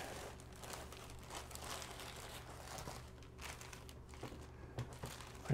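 A plastic bag crinkles and rustles during the unboxing of an AmazonBasics aluminum light stand, a soft, continuous handling noise with small crackles, close by and fairly quiet, with no talking.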